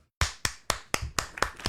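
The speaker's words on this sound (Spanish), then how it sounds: "Amy, fuerte el aplauso." Several sharp claps land at an even, steady rhythm, close and crisp, following a brief silence, alone with no talk.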